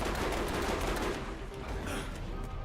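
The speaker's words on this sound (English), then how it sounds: "it's TMP that's the best machine pistol" Rapid, continuous TMP machine-pistol fire in Borderlands 2, a loud dense burst of shots running straight through without pause.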